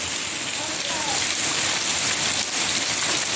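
Steady rain shower falling in Sunderland, a dense continuous hiss of drops on surfaces, close and even throughout with no break.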